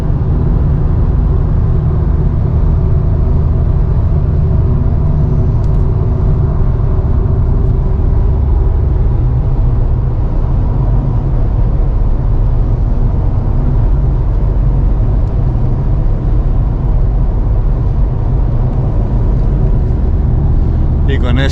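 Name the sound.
Volkswagen Golf V GTD engine (BMN) driving in sixth gear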